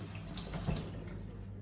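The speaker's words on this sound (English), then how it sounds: "I'm gonna wet the knife." Tap water runs steadily from a faucet to wet a knife before cutting cheese, a continuous close splashing hiss that fills the whole moment without speech.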